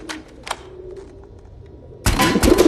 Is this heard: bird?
yes